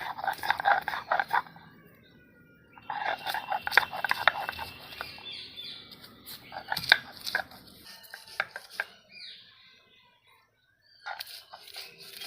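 Green chillies are ground by hand for a raw mango sherbet, giving bursts of scraping, crunching strokes with short pauses between them, close and fairly quiet.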